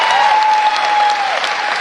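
Supporters on the Waikato bench clap during a boys' under-17 basketball grand final, a steady dense applause that runs loud throughout, with a sustained whistle-like tone and crowd noise behind it.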